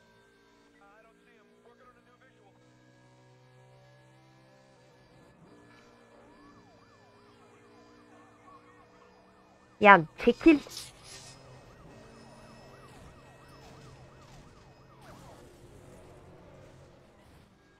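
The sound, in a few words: police car sirens in video game Need for Speed: The Run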